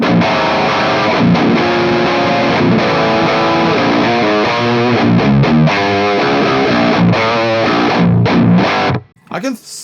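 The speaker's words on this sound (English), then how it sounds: "I can already say that's a thick distortion." A heavily distorted electric guitar plays thick, saturated chords and notes loudly, ending abruptly with a brief rustle.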